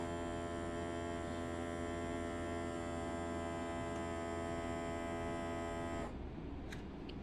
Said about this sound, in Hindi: वेट करेंगे, सील हो रहा है।